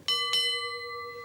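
Two bright bell dings from a quiz show's buzzer, struck in quick succession, each leaving a clear sustained ringing tone that slowly fades, heard alone without talk.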